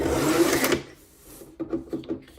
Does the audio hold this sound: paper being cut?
yes